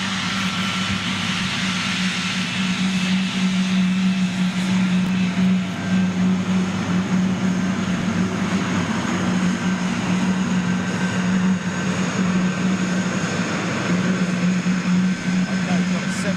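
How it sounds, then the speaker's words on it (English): A Virgin Boeing 747 with CF6 engines idles during pushback, a continuous loud jet whine and low hum held steady from a distance, with talk faintly over it. "we've got a 747 on pushback, folks. Oh, that's CF6 powered as well, the Virgin 74s"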